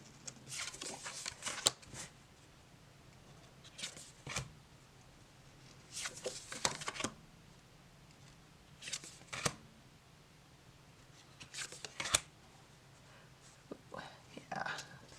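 Art-deck playing cards, including an oracle deck, being shuffled by hand in bursts of riffling and flicking spread across the clip, with soft quiet patter between them and faint murmured talk at times.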